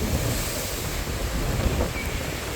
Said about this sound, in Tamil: நல்ல புயல் ஒன்று அடிச்சு கொண்டிருக்குது